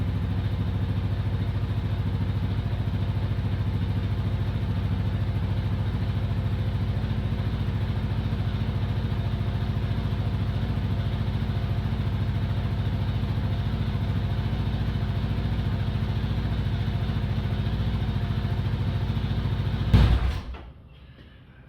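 A Kawasaki KLR 650 motorcycle idling right after its first oil change: a steady, close, thrumming single-cylinder idle runs unbroken for about twenty seconds, then cuts off abruptly with a brief clunk, leaving a quiet tail.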